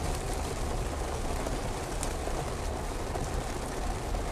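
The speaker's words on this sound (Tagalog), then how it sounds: "ulan na naman" Steady, dense rain pouring in Jeddah, a continuous broadband hiss with no breaks, moderately loud and heard alone.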